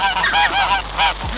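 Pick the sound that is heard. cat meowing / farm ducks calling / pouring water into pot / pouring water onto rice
farm ducks calling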